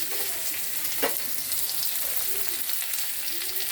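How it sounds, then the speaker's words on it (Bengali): Potatoes tipped into onions already frying in a pan, setting off a steady close sizzle with a brief louder burst of crackling as they land, then continued even frying with no voices. "পেঁয়াজটা একটু ভেজে তারপরে তার মধ্যে আলু দেবো। এবার আমি আলুটা দিয়ে দেবো।"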